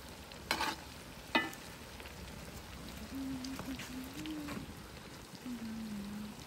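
Potato chunks crackle as they fry in oil in a kazan over a campfire, a steady mid-level hiss broken by two sharp stirring knocks early on; a faint tonal hum drifts in underneath.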